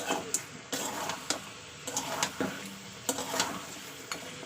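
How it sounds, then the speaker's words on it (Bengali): Meat is stir-fried with ginger garlic paste in a pan, giving repeated scraping and stirring strokes with a light background sizzle, close and fairly quiet, in an irregular rhythm. "আদা রসুনটা দিয়ে এবার আমি ভালো করে কষিয়ে নেবো"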